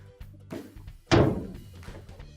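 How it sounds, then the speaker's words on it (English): A GE dryer door swings shut with one solid thunk that rings out and fades, preceded by a couple of soft handling taps. "Now we can close our dryer door."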